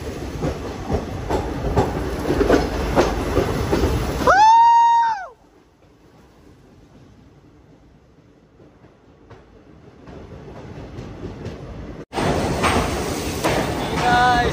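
The Poorna Express train rumbles loudly and then plunges into a tunnel near Dudhsagar Falls, its noise abruptly collapsing into a muffled hollow drone before bursting back to full roar.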